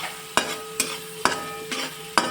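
Hakka noodles being stirred and mixed in a pan over a low flame, with four sharp utensil scrapes and clanks at irregular intervals over a faint sizzle.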